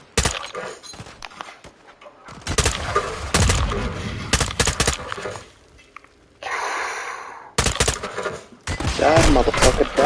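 Gunfire in the Modern Warfare 2 video game, with loud broadband bursts of shots and rapid volleys arriving in uneven clusters, separated by a few quieter gaps and mixed with other battle effects.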